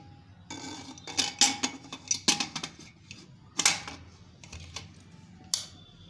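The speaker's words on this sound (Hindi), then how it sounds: "अब कुकर को बंद कर लेंगे।" Several sharp metallic clicks and clanks, as a pressure cooker lid is fitted and locked shut over momos, with quiet pauses between them and no voices.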